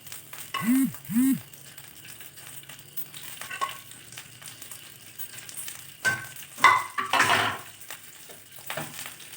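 Netholi anchovies are dropped into hot oil in a pan and crackle with close, loud sizzling bursts that flare and settle. A voice is briefly heard near the start.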